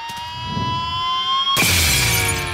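A cartoon window shatters with a sudden loud crash of breaking glass after a kicked ball, cutting in over a sustained high whining tone and ringing on with bright debris noise.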